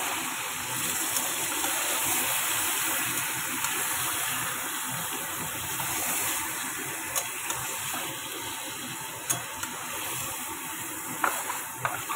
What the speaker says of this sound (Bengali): গ্যাসটা জোরেই থাকবে, চিমনিটা না বন্ধ করলে না কিছু শোনা যাবে না।